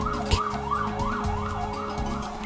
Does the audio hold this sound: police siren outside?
yes